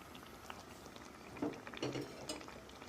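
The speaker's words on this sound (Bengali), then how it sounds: "আমি কড়াতেই সেদ্ধ করে নেব গ্যাস কমিয়ে দিয়ে অল্প করে একদম লো আছে সেদ্ধ করে নেব" Mutton curry simmering in a kadai over low gas, giving a quiet, steady bubbling with scattered soft pops and a couple of slightly louder bursts, with no talking.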